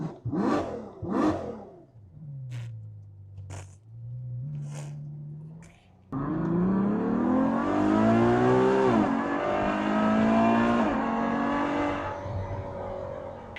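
A Ferrari FF engine idles in neutral at a traffic light, blips a few sharp revs, then roars up into a long, loud, sustained rev before easing back down.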